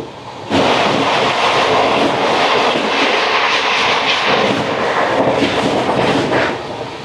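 The Lalkuan Express pulls into Asansol Junction with a heavy, loud roar of wheels and carriages that swells in sharply near the start and stays dense and continuous, easing slightly at the end.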